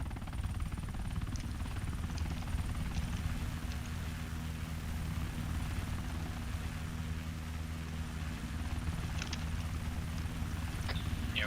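Military helicopter in the game Arma 3 spinning up on a ship's flight deck for lift-off, a steady loud rotor and turbine drone throughout with a few faint clicks, no talk.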